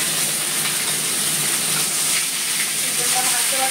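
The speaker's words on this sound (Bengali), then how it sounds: "প্রথমে ভাজতে দিলাম" Something fries in a pan as the first step of a smoked chicken tikka, giving a loud, steady, close-up sizzling hiss with a few soft clicks. No clear talk is heard.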